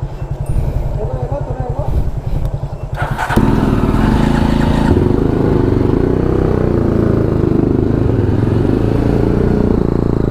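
A motorcycle on a road trip from Kolkata toward Siliguri idles with a rapid pulsing thump, then pulls away into a loud, steady roar of engine and rushing wind while riding down the road.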